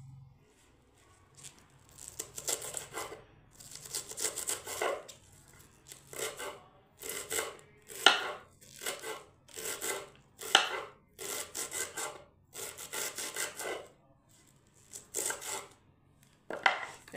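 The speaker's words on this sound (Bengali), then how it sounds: "বাঁধাকপি কাটছি।" A knife chops cabbage for pakoras on a board, a steady run of crisp, rhythmic cutting strokes in short bursts with brief pauses, close and fairly quiet, with no talk.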